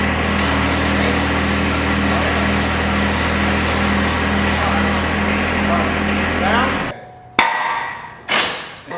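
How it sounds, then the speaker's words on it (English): A small engine on a light-duty auger runs steadily with a loud, high-pitched drone, then cuts out near the end and leaves a few sharp metallic knocks, while people talk over the noise. "This is like the light duty auger almost."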